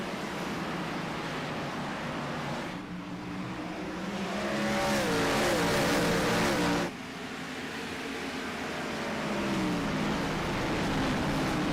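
Race cars at a green-flag restart at Richmond build into loud, rising engine roars that swell and overlap, with a brief drop before the cars accelerate again.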